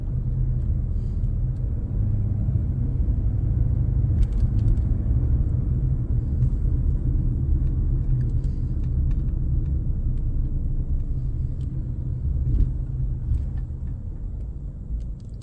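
Car driving along a road at night in Merida, a steady low engine and road rumble held throughout, close and continuous with slight swells, and no talking.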